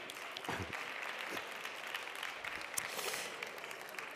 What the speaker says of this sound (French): On peut les raccompagner sous les applaudissements.